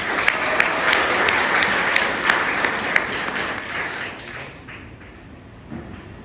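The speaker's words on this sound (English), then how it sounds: "a huge round of applause for them" Audience applause for arm wrestling athletes at a celebration honouring them: steady clapping with a few sharper claps standing out, fading noticeably toward the end.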